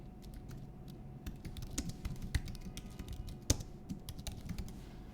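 Quick keystrokes clatter on a computer keyboard as a file name is typed, an irregular run of light clicks with a few harder taps, close and over faint room noise, no talking.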